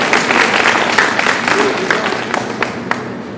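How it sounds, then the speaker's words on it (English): An audience applauds at a micromouse robot contest, a brisk round of clapping that thins into scattered individual claps near the end. "let's have a round of applause for Pick 1 Turbo"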